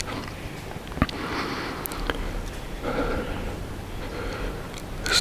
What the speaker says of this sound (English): This doe is sniffing the blood where I just shot.